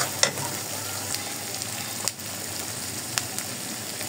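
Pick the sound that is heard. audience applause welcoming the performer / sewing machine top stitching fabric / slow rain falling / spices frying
spices frying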